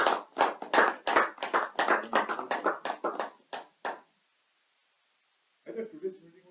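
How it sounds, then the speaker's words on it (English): Members at a Toastmasters club meeting give a few seconds of brisk, uneven clapping from a small group. The clapping stops abruptly, a silence follows, and then someone starts to speak. "A round of applause for him."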